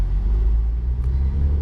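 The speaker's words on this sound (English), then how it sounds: "Alright guys, so I ended up test driving the car." Deep steady engine rumble from inside a Mazda Miata on a test drive, a loud continuous low drone without talking.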